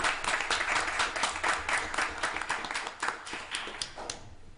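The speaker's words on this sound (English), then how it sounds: "Round of applause to everyone for attending." Audience applause at a city historic preservation board meeting, a fairly quiet scattering of hand claps that thins out toward the end.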